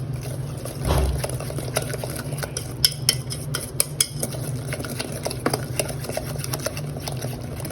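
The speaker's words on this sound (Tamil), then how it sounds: "இதை நல்லா இப்போது கலந்துக்கோங்க. நல்லா கலரணும்." Chicken 65 marinade being stirred and mixed in a bowl at home, a steady wet stirring with scattered clicks and light scrapes against the bowl, close and moderately loud, no talking.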